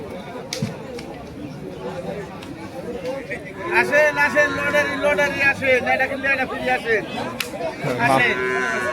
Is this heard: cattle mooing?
yes